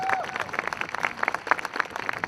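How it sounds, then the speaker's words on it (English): Crowd at a rally at a state capitol applauds, a fairly faint, somewhat distant patter of many hands clapping, steady and spread out. "Let's give her a round of applause."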